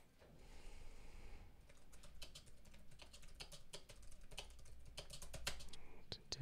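Rapid typing on a computer keyboard during a live coding session, with quick irregular bursts of key clicks that grow louder toward the end.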